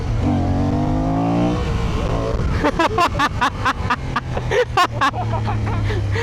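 Honda Hornet 750 motorcycle engine revving hard in second gear, loud and close, with a steady high drone that drops into choppy, stuttering bursts of throttle.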